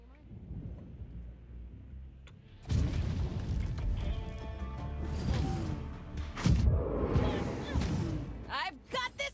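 A creature's shot bursts in the tactical fantasy RPG Dark Envoy, a heavy booming blast with whooshing, crashing tails that swell and roll for several seconds, followed by a second surge, with a voice briefly heard.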